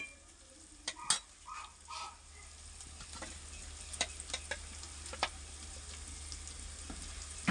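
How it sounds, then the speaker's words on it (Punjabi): Masala roasts in a pan with a soft, low sizzle, while a spatula scrapes and taps at irregular intervals, close and fairly quiet. "ਇਹ ਚੰਗੀ ਤਰ੍ਹਾਂ ਭੁੰਨ ਲੈਣੇ ਲਓ ਜੀ ਮਸਾਲਾ ਆਪਣਾ ਪੱਕ ਗਿਆ"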